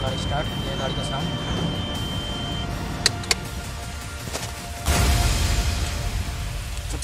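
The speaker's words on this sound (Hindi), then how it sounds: "स्टार्ट किया है गाड़ी का साउंड।" An Eicher 2080 six-tyre dumper truck engine runs at a steady idle, a continuous rumble with a couple of sharp clicks midway and a louder surge near the end.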